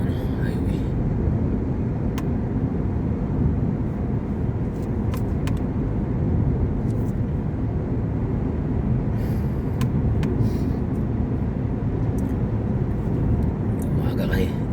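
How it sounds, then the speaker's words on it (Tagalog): Highway traffic with many vehicles, a steady close roar of cars and heavier vehicles passing continuously, with a person speaking over it. "Masyado mga sakyan highway."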